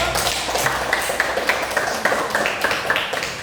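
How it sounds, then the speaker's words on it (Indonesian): A classroom group claps for another group's answer, producing a dense, even patter of applause that lasts throughout. "Kita beri aplaus dulu untuk"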